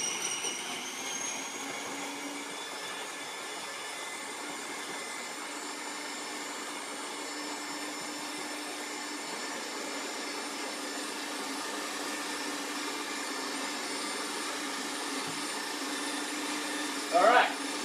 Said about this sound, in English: and we get the blender going.